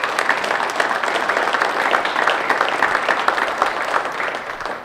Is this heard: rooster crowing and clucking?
no